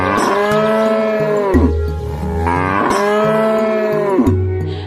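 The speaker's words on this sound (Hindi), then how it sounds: "गाय डर के मारे जोर जोर से रंभाने लगती है" A frightened cow moos loudly in two long, drawn-out calls, close and clear, with a low steady tone underneath and no talking.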